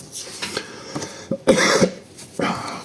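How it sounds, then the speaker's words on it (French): A few sharp coughs in quick succession, close and fairly loud, with a short pause before a final cough; no talking. "Je vais pas tousser à chaque fois, quoi, mince."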